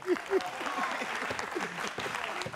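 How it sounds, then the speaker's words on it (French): A studio audience applauds on a French-language talk show, a steady wash of clapping that runs under a voice speaking throughout. "Applaudissez-moi pour tonton Kwaku"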